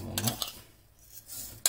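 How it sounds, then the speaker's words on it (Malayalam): A spoon clinks faintly against a bowl while sugar is mixed into cream for a no-bake blueberry cheesecake, with a few light metallic taps at the start and one at the end. "3-4 ടേബിൾ സ്പൂൺ ഷുഗർ ഇതിലേക്ക് നമുക്ക് മിക്സ് ചെയ്ത് കൊടുക്കാം."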